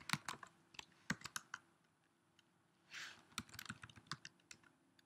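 Quiet, quick keystrokes on a computer keyboard come in short irregular bursts of clicks, with a brief pause and a soft rustle midway before the typing resumes.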